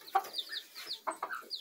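Hens cluck in short, close bursts, a handful of quick calls spread across a second and a half, with no talking.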